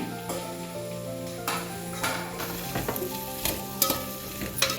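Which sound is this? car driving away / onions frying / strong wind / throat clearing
onions frying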